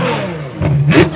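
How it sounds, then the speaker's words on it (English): A V12 Lamborghini at an outdoor cars and coffee meet revs hard twice, a quick rising snarl over a steady rumble. It is loud and close, with no speech. "Rev it."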